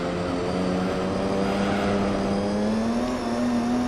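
Racing car engines roar in the Gran Turismo 3: A-Spec German Touring Car race, a loud sustained drone whose pitch climbs slowly and steadily, with no talking.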